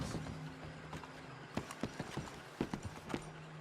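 Horse hooves clip-clop on the ground in Red Dead Redemption 2, several uneven strikes close by over a steady low background hum, with no talk.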